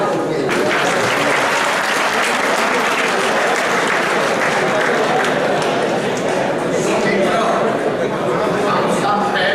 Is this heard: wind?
no